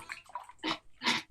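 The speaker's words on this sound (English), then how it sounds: "That's the sound of a good beverage" Short bursts of liquid splashing and pouring, a few quick gushes close by, brief and fairly quiet.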